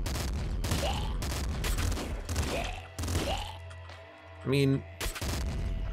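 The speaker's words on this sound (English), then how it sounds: "I guess I'm okay with the heavy assault rifle here" Bursts of heavy assault rifle fire in the video game Nuclear Throne, several rapid volleys of booming shots with thuds, loud and close, broken by a brief electronic chirp and a voice talking between bursts.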